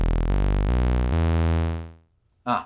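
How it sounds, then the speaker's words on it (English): A deep buzzy saw-wave synth bass, dropped two octaves, sustains a few stepped low notes, then fades out; a brief voice follows at the end. "the pitch of oscillator 3 is too high, so I'm going to bring it down 2 octaves to the bass range"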